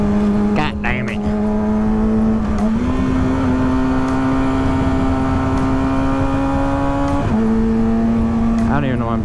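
A motorcycle engine drones steadily up close as the rider downshifts, the tone stepping up and down between gears with brief revs, while the rider talks over it.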